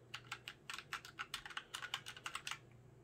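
Keys pressed on a Punkston TK-104 keyboard: rapid, quiet, crisp clicking keystrokes in uneven bursts, close up, with no talking.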